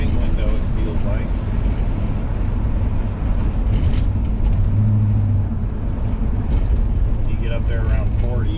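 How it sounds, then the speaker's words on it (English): Wind rushes past the wing window of a moving 1960 Dodge Dart Phoenix, a loud steady roar blended with low cabin rumble, with a person talking over it. "We got some wind noise you can hear at this wing window"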